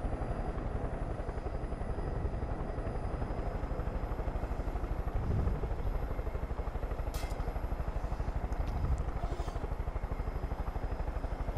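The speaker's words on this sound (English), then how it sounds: "I've just got a helicopter out." Steady, loud helicopter rotor chop and engine drone in the video game Far Cry 5, continuous throughout with no talking.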